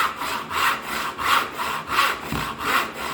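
A hand saw cuts through wood in steady back-and-forth strokes, about five rhythmic rasping passes, close and clear with no talk.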